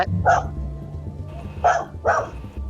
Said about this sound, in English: No, that's the dog next door.